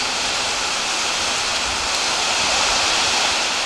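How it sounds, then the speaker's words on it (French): Heavy hail pours down outside a castle, a dense, loud, unbroken roar of pelting ice that holds steady throughout with no talking. "C'est de la grêle qui est en train de tomber."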